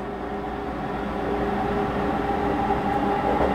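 Steady low rumble and hum inside a moving Shonan Liner commuter train bound for Odawara, a continuous rolling drone with faint rattles and no voices.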